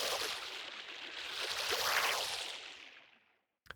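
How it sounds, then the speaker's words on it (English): Designed layer of sustained water like a babbling creek, processed with phaser, OTT and tremolo effects: a broad, hissy wash that swells to a peak midway and then fades out, faint and alone, with a small click at the end. "this is just some sustained water"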